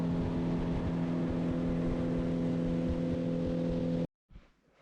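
A boat's outboard motor cruising upriver at a steady drone, loud and continuous with a constant hum, then cutting off abruptly near the end.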